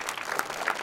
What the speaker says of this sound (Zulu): so ngicela ngakho konke lokhu nishayela ihlombe